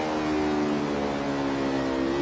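A racing car engine in a video game holds a steady, loud revving drone with strong harmonic whine throughout, sustained and close, with no talk.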